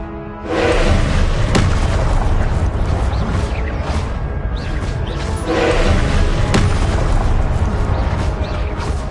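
Repeated spell-casting impacts from the Hogwarts Legacy video game, heavy booming bursts landing every few seconds over a dense, continuous game soundscape; no voices over them.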